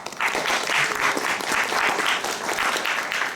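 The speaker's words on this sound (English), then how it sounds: "A round of applause" Audience applauding a volunteer who is called up on stage, a dense, even burst of clapping heard alone at moderate loudness for a few seconds.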